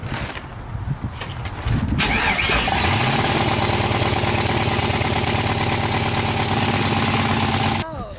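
An LS V8 engine swapped into a Dodge Dart, running on open headers, cranks and fires up after a couple of seconds, then settles into a loud, steady, rumbling idle that cuts off abruptly near the end.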